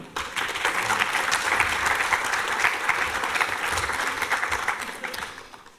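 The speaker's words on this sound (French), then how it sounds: "Je crois qu'on peut les applaudir." An audience applauds the speakers at the close of a French-language Lift conference session on teaching, a steady, dense wash of many hands clapping that carries on for several seconds before tapering off.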